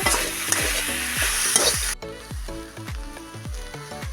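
Spice mixture for cauliflower singara frying in a pan, a steady loud sizzle with repeated scraping stirs of the spatula at a regular rhythm, close up and with no voices.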